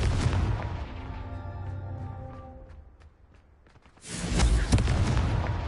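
A Confringo fire spell explodes in Hogwarts Legacy on PS5, a heavy booming blast with a long rumbling, ringing decay that fades to near silence before a second loud explosive burst erupts and roars on.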